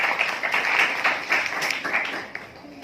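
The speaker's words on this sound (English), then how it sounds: "Clap for us." An audience at a school English speech competition claps after a speech, a moderate, fairly close burst of many hands that thins out toward the end.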